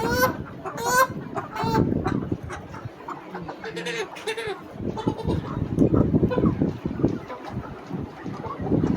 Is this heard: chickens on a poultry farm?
yes